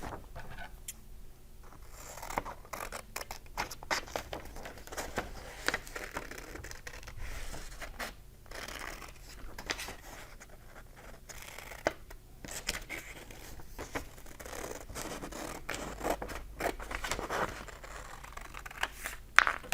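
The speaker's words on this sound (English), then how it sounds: "So I'm going to cut along the bottom, making sure that I cut carefully round the tab." Scissors snip along the bottom edge of a printed paper page and carefully around a tab, giving a quiet, steady series of crisp cutting and crinkling sounds with short pauses, no talking.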